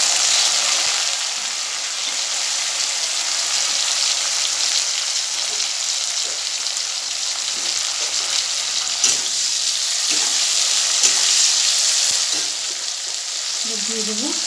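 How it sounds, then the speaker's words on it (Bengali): Cabbage with chopped tomato frying in a pan for a vegetarian dish, a steady close bright sizzle that runs throughout with small stirring bumps and no speech. "একটু হালকা ভাজা হচ্ছে"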